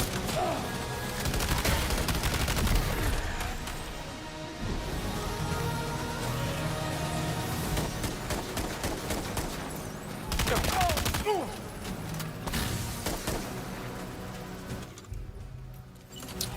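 Shotgun blasts in the video game Death Stranding 2, heavy bursts of fire set against a dense game soundscape of music and effects, with a voice speaking at points.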